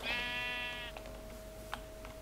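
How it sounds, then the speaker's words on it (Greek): A single Minecraft sheep bleat, clear and tonal, followed by faint clicks and a low steady hum in the background. "Όπα, άκουσα και πρόβα."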